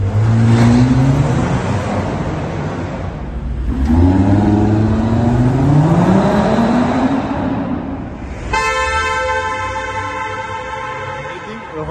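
Loud car engine roars and revs up twice in a tunnel with a rising pitch, booming in the enclosed space, followed by a car horn honking.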